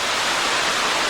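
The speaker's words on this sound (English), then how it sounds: "There's a little bit of perspective with the waterfall behind me back there." Buttermilk Falls in Lehigh Gorge State Park, Pennsylvania, roars as a loud, steady wash of falling water, close by and continuous with no pauses or voices.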